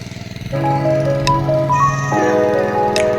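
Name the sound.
tractor engine running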